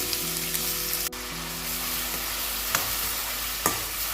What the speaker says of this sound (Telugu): ఆయిల్ వేడెక్కాక ఆనియన్స్ వేసుకొని ఫ్రై చేసుకోవాలి.